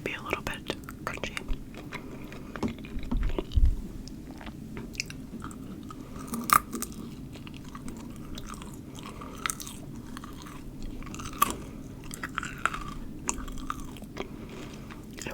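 Crunchy fried chicken-restaurant french fries being chewed close up, with irregular crisp bites and soft mouth sounds over a low background hum.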